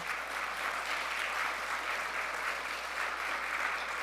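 Steady applause from a church congregation fills the whole stretch, even clapping at moderate volume with no voices on top.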